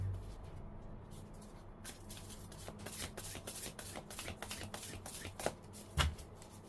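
A tarot deck shuffled by hand to draw an advice card gives a quick run of close, crisp riffling and slapping card sounds that ends in a couple of sharper taps.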